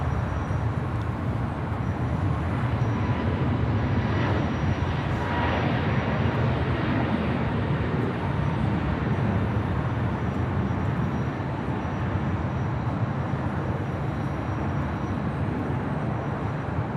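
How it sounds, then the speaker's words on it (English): An Alaska Airlines 737 MAX 9 arriving at LAX from Seattle gives a steady, broad distant jet roar that holds evenly throughout, with no talking. "Alaska Airlines flight 1144 coming in from Seattle on the 737 MAX 9"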